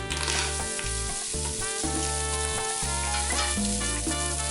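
Onion browning in an Instant Pot for a Vietnamese chicken and offal stew, with bay leaf, lemongrass and chili already in the pot, giving a steady loud sizzle and stirring scrapes throughout.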